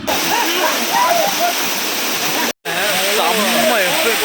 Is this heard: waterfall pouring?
yes